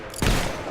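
Gunfire in the Fable III castle assault: a loud burst of shots kicks in after a brief lull, then rolls on as a sustained, dense volley with no voices.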